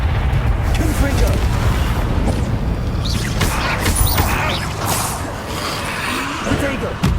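Explosive Confringo spell cast in a video game, heavy booming blasts and rumbling bursts layered over continuous game noise, with a voice speaking over parts of it.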